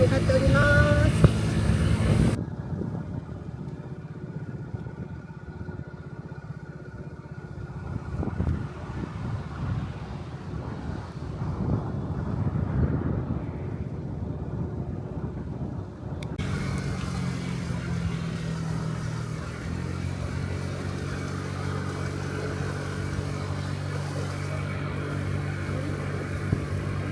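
Steady engine drone and heavy wind rush from a 50cc moped riding along a road in Kyushu, continuous and close throughout with shifts in tone as the ride goes on.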